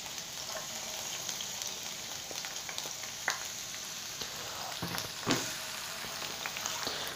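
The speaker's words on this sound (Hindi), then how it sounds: "जब ये ऑयल हमारा हीट हो जाएगा तो इसमें जो हमारी चॉप्ड अनियन है" Chopped onion frying in hot oil gives a steady, soft sizzle and hiss throughout, with a few small pops and crackles rising briefly out of the bed of noise.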